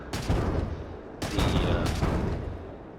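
Flak cannons firing in the Matilija Aerospace video game, a dense rattling burst of rapid game gunfire that pauses briefly and then resumes in a second loud volley.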